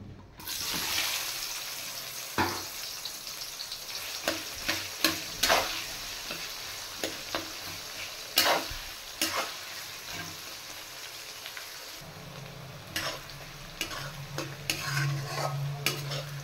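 Chopped onions frying in a pan during a Bengali chicken recipe, with a constant sizzle broken by repeated sharp stirring clatters; a low rumble joins near the end.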